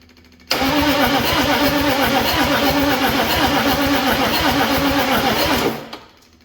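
Diesel engine of a 1965 Chevy C30 shop truck cranking over steadily with a rapid, rhythmic chug for about five seconds, loud and close, then stopping.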